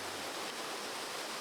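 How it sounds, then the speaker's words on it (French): A cold, lively waterfall on the ascent of Mount Toubkal in Morocco gives a steady, close roar of rushing water, loud and unbroken throughout. "La cascade est là."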